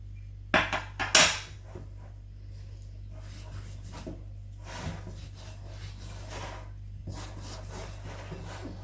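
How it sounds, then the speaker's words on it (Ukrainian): A spoon scraping and knocking against a bowl while mixing thick, hot lavash dough, a few sharp clinks followed by softer rhythmic rubbing strokes. "Спочатку замішую ложкою, поки тісто гаряче, а далі руками."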